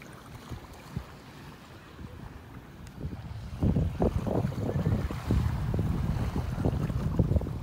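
Steady wind buffets the microphone outdoors on a beach in North Naples, Florida, with a low rumbling roar that swells and gusts, strongest in the second half.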